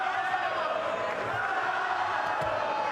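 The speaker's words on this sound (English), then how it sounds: "Sandor, the local crowd roaring on their man" A local boxing crowd roaring on their fighter during a Hughes versus Martin bout, a broad sustained wall of cheering and yelling from a large arena audience, steady and loud without letup.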